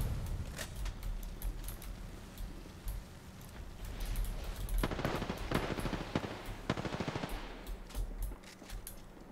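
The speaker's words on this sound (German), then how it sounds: "Schuss." Rapid automatic gunfire in an Apex Legends match, the Alternator firing in dense bursts with scattered single shots, loudest in the middle stretch and layered over game ambience.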